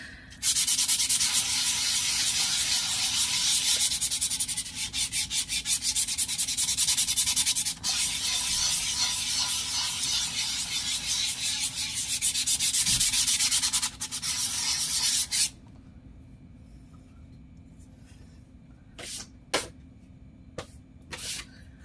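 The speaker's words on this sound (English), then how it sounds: "since I want to use this for journaling, I'm going to sand it up a little bit." Sandpaper scrubs steadily across a journal page being prepared for gesso, a loud continuous rasping for about fifteen seconds, then stops, leaving near silence with a few brief knocks and handling sounds.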